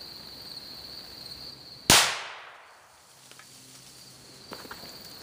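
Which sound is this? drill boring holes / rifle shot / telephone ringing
rifle shot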